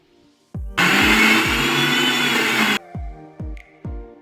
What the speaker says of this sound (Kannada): ಇದು ಒಗ್ಗರಣೆಗೆ ರುಬ್ಕೋಬೇಕು.